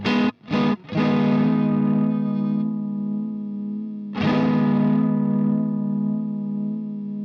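Guitar played through a Uni-Vibe effect at intensity 4, speed 5: a few quick picked notes, then two long ringing chords with a wavering, swirling pulse, alone and fairly clear.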